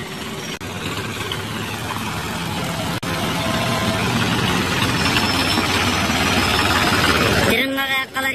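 A Swaraj tractor engine running: a loud, steady, continuous rumble with a rough, vibrating texture that holds for several seconds, then shifts abruptly near the end.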